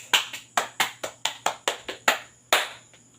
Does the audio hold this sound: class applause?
yes